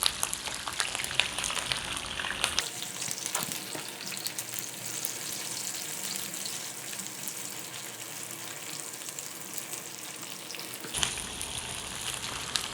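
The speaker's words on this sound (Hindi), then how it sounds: "सबसे पहले जो हमने शिमला बारीक बारीक काट लिया वो हमने ऐड करना है। ऑयल हमारा गरम हो चुका है।" Finely chopped capsicum sizzling in hot oil, a steady loud crackling hiss that holds for several seconds with scattered pops and faint stirring.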